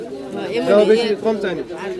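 Large pigeons cooing at a village poultry market selling ducks and chickens, with throaty, rolling coos close by and people talking over them.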